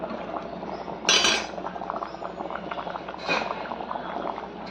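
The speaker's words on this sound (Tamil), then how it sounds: "நல்லா ஒரு கொதிக்கட்டும், ஒரு 20 நிமிஷம் நல்லா அந்த மல்லிக்காரம் போகிறதுக்கு" A pot of pacha milagu nalli curry simmers on the stove with a soft bubbling hiss, broken by two sharp metallic clinks of a spoon or lid against the pot.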